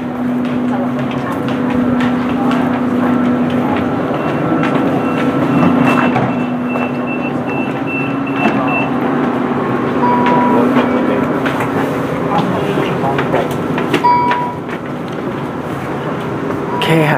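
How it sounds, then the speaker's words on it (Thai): Steady rumble and rattle of a moving passenger train from Adelaide, continuous wheel and carriage noise with faint beeps and clatter throughout, heard from inside the car. "นี่ฮะเรานั่งรถไฟนะครับจากเอดิเลดนะครับ"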